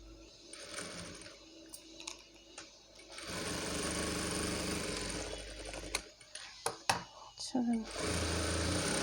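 Sewing machine stitching blouse fabric, its motor whirring in steady runs broken by short pauses and small clicks, fairly close, with a voice talking over parts of it.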